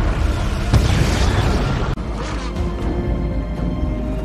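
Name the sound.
car explosion in a film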